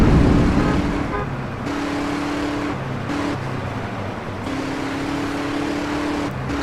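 A car drives along a highway in the mobile version of GTA San Andreas, during the final mission End of the Line. A steady engine drone runs throughout, broken by several sustained horn-like tones. No one speaks.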